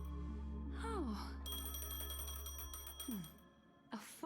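A phone rings inside the video game Honkai Star Rail, a tonal electronic ringing pattern with sliding chirps, moderately close and alone with no talking.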